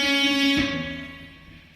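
Electric guitar with distortion plays a short riff from a song, a sustained note sliding to another and ringing out alone, loud and close.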